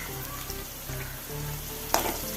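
Bitter gourd frying in a pan as it is stirred, a loud continuous sizzle with a low background hum and one sharp scrape of the spoon near the end.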